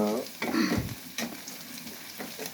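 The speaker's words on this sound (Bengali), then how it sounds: "রসুন বাটা দিয়ে একটু ভাজতে হয়, হালকা একটু ভেজে তারপর রসুন বাটাটা দিয়ে দিলাম।" Garlic paste fries in a pan of oil for a Bata fish curry, a close, bright sizzle with stirring bursts, and a brief voice at the start.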